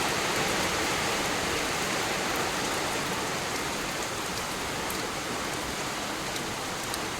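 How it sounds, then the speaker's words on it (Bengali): Steady, dense rain falls continuously, a broad hiss of drops hitting surfaces with no voices. "দেখো কি বৃষ্টি শুরু হয়ে গেছে"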